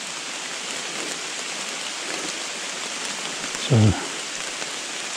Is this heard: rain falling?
yes